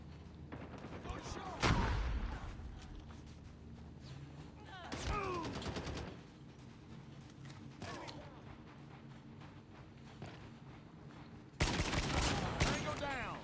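SKS rifle hip-fire in a video game, several loud, sharp single shots spaced a few seconds apart over a steady game background, the final shot a dense, extended blast.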